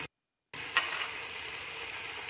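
Garlic and raisins frying with tomatoes in a pan, a steady close sizzle that starts abruptly after a brief silence, with one small clink early on.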